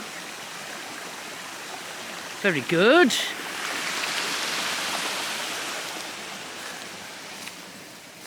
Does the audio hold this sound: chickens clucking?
no